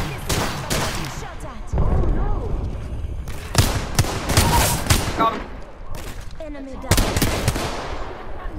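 The Wingman pistol fires in the video game Apex Legends, loud sharp reports in quick clusters with other gunfire and game effects between them, and a voice talks alongside.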